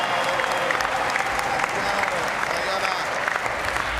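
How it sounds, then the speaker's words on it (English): Crowd at a skateboarding competition final applauding and cheering loudly and continuously, a dense wash of clapping with shouts mixed in, with an announcer's voice intermittently over it. "Okay, crowd, let's hear it for Puerto Rican Steven Pinheiro, 25."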